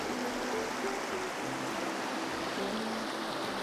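River water rushing steadily near Caribou Falls, a constant broad wash of flow with no breaks, fairly loud and close, with no voices.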